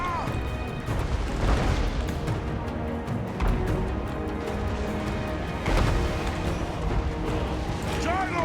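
Dwarf artillery pieces fire heavy booms every couple of seconds across a Total War: Warhammer multiplayer battle, with crashing impacts over a constant rumbling battlefield din.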